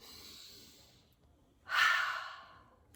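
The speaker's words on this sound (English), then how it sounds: "Take a nice big deep breath." Deep breath taken during a children's library story time: soft airy breath first, then a louder, longer exhale or inhale near the middle, close and alone.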